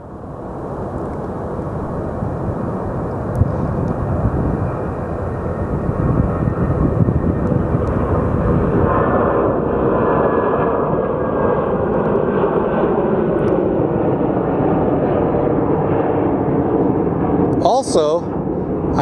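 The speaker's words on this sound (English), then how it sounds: "we got our 757 departing" A Boeing 757 jet roars on departure at Sky Harbor Airport, a loud, sustained broad engine rumble that holds steady for the whole stretch, with a brief sharp noise near the end.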